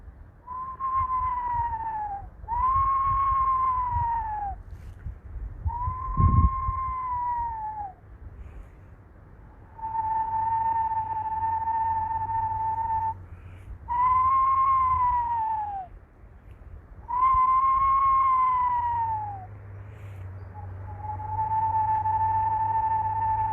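A person whistles a wavering, trilling call imitating a screech owl, repeated about eight times with pauses, over a low hum of distant traffic.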